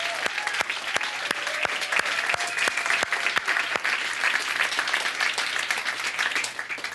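Sustained applause from a crowd at a national health care forum, with many sharp, evenly spaced claps standing out over the steady patter.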